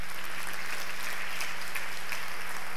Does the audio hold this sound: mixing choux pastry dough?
no